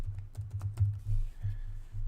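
Fingers typing on a computer keyboard, a quick scatter of light clicks over a steady low hum, faint and close with no talking.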